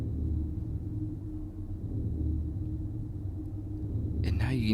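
A constant low electrical power hum fills a dome in the game Riven, steady and droning throughout, with a voice breaking in briefly near the end.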